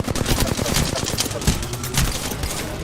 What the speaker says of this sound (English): He got sniped.